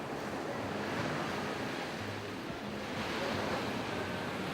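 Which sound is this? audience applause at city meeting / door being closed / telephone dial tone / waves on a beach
waves on a beach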